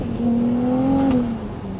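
A Ferrari engine revs hard as the car accelerates, a steady rising tone that swells loudly and then eases off over a couple of seconds, with no voices.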